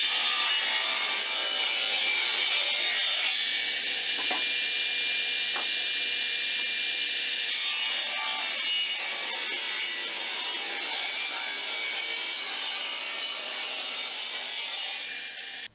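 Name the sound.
table saw cutting a wooden piece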